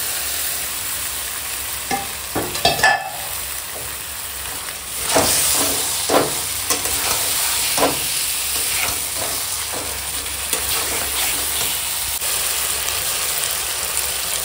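Marinated chicken dropped into a pan of fried onion and green chilli, bursting into a loud sizzle that settles into steady frying hiss with occasional stirring scrapes and clinks, no voices.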